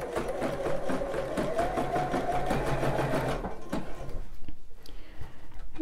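A home sewing machine stitches elastic onto a bra in a steady, fast rapid-fire run of needle strokes, close and fairly loud, then stops about two thirds through, leaving soft handling clicks and rustles.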